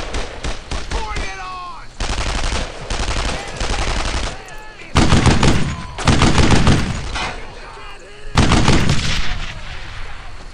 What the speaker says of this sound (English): Put your fire there! I can't shoot there, Red! I need suppressing fire!